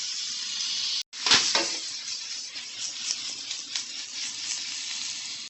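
Sesame chicken and vegetables sizzle steadily in a wok, with a brief break and a clatter of spatula stirring before the continuous frying hiss resumes, close and fairly loud throughout.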